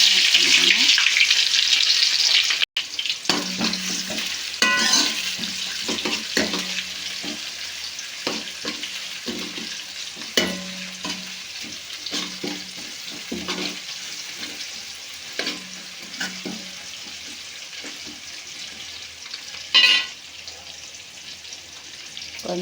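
Mustard seeds and cumin fry in hot oil as the base for a radish sambar, giving a close, steady sizzle with scattered sharp pops and crackles. It starts loud and then settles, with a faint voice now and then.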